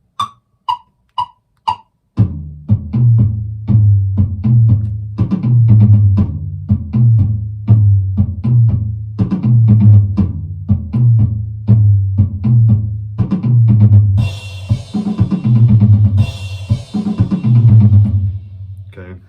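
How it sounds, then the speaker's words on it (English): Four clicks from a count-in lead into a drum pattern: a steady four-on-the-floor bass drum with tom fills over it. The playing is loud and close with a driving rhythm, and cymbal wash brightens the last few seconds. "this is sort of just the steady 4 on the floor in the bass drum, with then some tom work above it that accentuate what Mike's doing"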